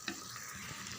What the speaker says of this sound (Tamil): நல்லா இந்த மசாலா கூட இந்த சிக்கனை சேர்ந்து இன்னும் ஒரு 5 நிமிஷம் தான் வதங்கட்டும்